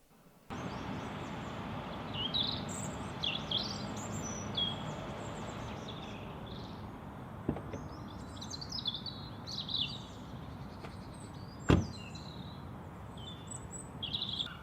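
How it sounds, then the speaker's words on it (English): Gulls call in scattered high squawks over steady low outdoor background noise, with one sharp louder bang near the end. "Just in time for the seagulls to come over."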